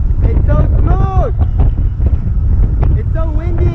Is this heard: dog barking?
no